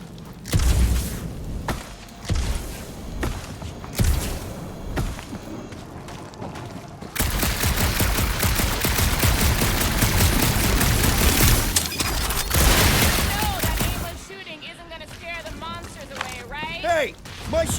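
Gunfire in Marvel's Guardians of the Galaxy: scattered sharp shots early on give way to a long, dense burst of continuous blasting in the middle, followed by quieter moments with voices talking.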